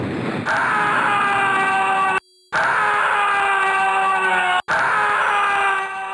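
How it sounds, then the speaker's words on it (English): A loud, sustained high-pitched death scream from the King's Quest V character Graham, with bright harmonics, repeated three times with short silent gaps between, like a looping game sound effect. "it was especially frustrating in King's Quest V because of Graham's ear-piercing scream"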